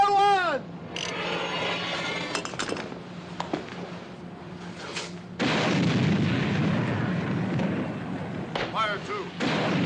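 Artillery cannon fire in a Western film, with a loud boom followed by a long rumbling roar of smoke and debris, then a second heavy blast, with a voice shouting orders over it.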